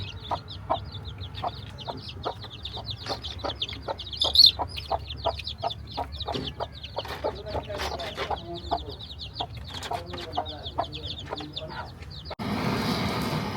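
Jungle fowl cluck in a steady, rapid series of short clucks, moderately close, ending in a burst of rustling noise.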